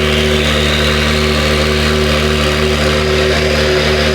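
An Acura NSX sports car engine runs close by, a loud, steady droning hum with strong low harmonics and a constant even tone throughout, with no voices.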